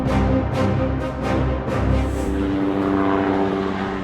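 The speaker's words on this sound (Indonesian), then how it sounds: "Dalam operasi militer modern, helikopter ringan memiliki peran strategis." A light military helicopter drones loudly and close, its engine and rotor roar rising in a few rhythmic surges before settling into a steady, slightly fading hum, with no speech.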